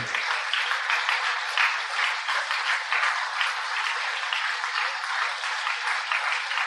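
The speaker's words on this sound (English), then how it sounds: "Keep clapping." A group claps together during a guided meditation session on sound and silence. The clapping is continuous, even and moderately loud, lasting several seconds with no voices over it.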